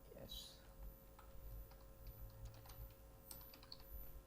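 Keys clatter on a computer keyboard as a chart title is typed into an MS Excel sheet, giving a quiet, irregular patter of light clicks over a low background hum.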